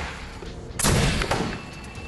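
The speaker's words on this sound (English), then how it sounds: "we had a big action, which was that explosion" A demonstration rocket launches on an indoor stage with one sharp, loud explosive bang that decays over about a second, followed by lingering rumble and crowd noise, no talking.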